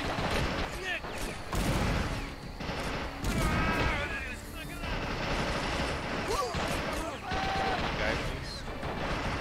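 Gunfire and explosions from the World War II strategy game Men of War: Assault Squad 2, a dense, continuous barrage of shots and blasts with occasional whistling shells, mixed under players chatting over voice chat.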